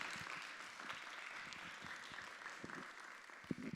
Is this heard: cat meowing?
no